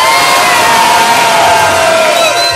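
A loud crowd cheers and whoops continuously at a freestyle rap battle semifinal at Roda Cultural Santo Amaro, close and dense with shouting voices blending into a roar.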